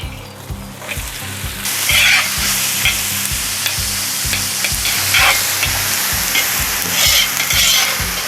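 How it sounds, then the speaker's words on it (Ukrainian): Onions sizzle and crackle loudly in hot sunflower oil in a cauldron while a spoon stirs them in a steady back-and-forth rhythm. "я додаю соняшникової олії та починаємо смажити цибулю"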